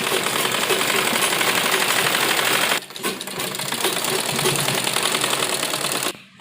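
A sewing machine stitches the hem edge of a salwar in a steady, loud, rapid mechanical chatter that runs continuously, breaks off briefly, resumes at a similar pace and then stops.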